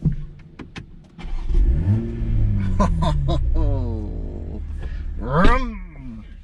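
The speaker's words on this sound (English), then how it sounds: "Love the sound of an inline 6." A Toyota Supra's B58 inline-six engine cranks and fires up, settling into a steady idle, then gives a quick rev that rises and falls near the end.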